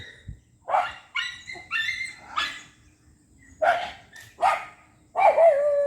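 Dogs barking beside a vegetable garden: several sharp, close barks come in two bursts with a pause between, the last one drawn out into a whine.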